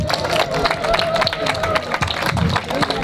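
A crowd at a public liberty commemoration event claps and cheers, with loud, dense applause and a murmur of voices running throughout.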